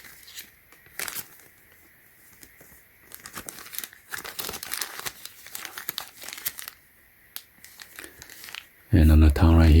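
Hard plastic packaging from Nike Jordan 4 Retro shoes crinkles and crackles in short bursts as it is handled up close, followed by a person speaking at the end.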